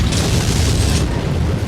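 Missile explosion in MechWarrior, a short, loud, booming burst with a rough crackling roar that fades out, heard alone.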